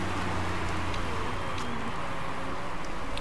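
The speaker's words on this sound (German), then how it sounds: "Regen fängt an" Steady rain patters continuously in the racing management video game Motorsport Manager, forming an even, dense hiss of raindrops on the surface with occasional brighter drops and no one speaking.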